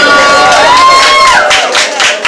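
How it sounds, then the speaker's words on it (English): Audience at a live poetry event in Bronzeville clapping and cheering loudly, with whoops and shouted voices over dense applause that thins toward the end. "Go ahead and clap it up for Poetry Soul Child, y'all."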